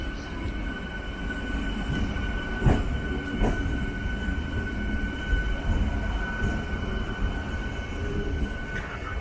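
An MEMU electric multiple unit train running from Coimbatore toward Palakkad Town, heard as a steady loud rail rumble with wheel clatter, a few sharp clanks over joints and thin high squeals, with no voices.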